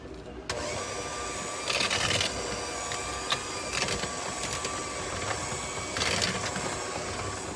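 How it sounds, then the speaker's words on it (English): A hand mixer runs steadily through pumpkin cookie dough, a continuous motor whir that swells briefly in louder bursts as the beaters work the mix, with no talking. "Now using a hand mixer or a stand mixer, mix the dry and wet ingredients together."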